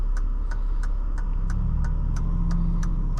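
A 1994 Mercedes-Benz E420 with its V8 engine running steadily while driving, a constant close drone with a regular ticking click repeating about every third of a second throughout.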